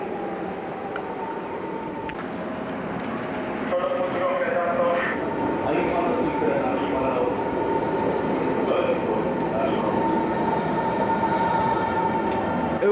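A Berlin S-Bahn train rumbles at a station platform on the Stadtbahn, a steady, moderately loud rolling hum that swells midway as it moves, with people talking faintly in the background.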